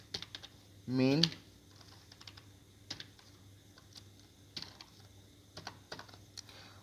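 Keystrokes from typing C program code on a computer keyboard, an irregular run of close, light clicks through the whole stretch, with someone speaking briefly near the start.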